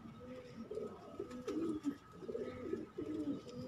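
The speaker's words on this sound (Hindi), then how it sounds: "बहुत ही प्यारा लाजवाब कबूतर है ये।" A pigeon coos softly and close by in a repeated rolling rhythm of about four calls, over a faint background hum.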